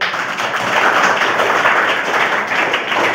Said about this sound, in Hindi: सबके लिए एक बार ताली हो जाए